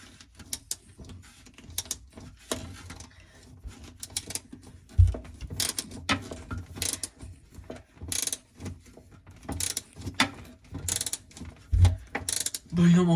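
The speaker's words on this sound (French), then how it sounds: "j'ai pris un petit cliquet en espérant que l'embout soit le bon" A small ratchet turns a screw on a leaking tank fitting, giving a close run of clicking pawl sounds in uneven bursts with short pauses, plus a few heavier knocks and handling noises.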